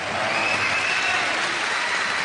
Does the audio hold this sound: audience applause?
yes